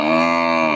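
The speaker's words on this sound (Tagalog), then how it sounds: "Dito may alaga silang mga baka." A single loud, close moo from a cow, a short steady low call with no other sounds around it.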